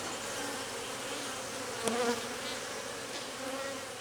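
Aggressive honey bees swarm around an open hive being closed up after a look at the green-marked queen, a steady dense buzz filling the air with a brief louder swell from a bee passing close.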